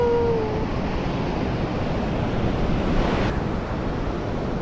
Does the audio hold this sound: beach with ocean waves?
yes